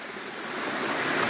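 Steady rushing water flowing and dripping over rock like a small waterfall, a continuous broadband wash that grows slightly louder, with no talking.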